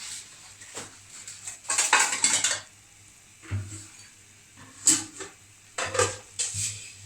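Macaroni is added to a pan for white sauce pasta, with bursts of clattering and metal scraping against cookware between quiet gaps, close by and with no speech.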